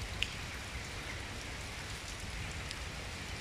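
Steady rain falls in a park in autumn, a soft, even hiss of drops on surfaces with a few closer drips, quiet and without voices.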